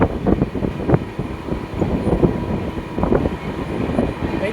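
Uttarbanga Express rumbling along a single-line track between New Cooch Behar and Bamanhat, heard from on board as a steady, close, broadband rattle with rhythmic thumps from the wheels.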